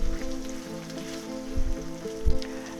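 Peppers and onions cooking in a pan for a hot roast beef sub, giving off a steady soft sizzle with a couple of louder bumps as the pan is stirred, no voices.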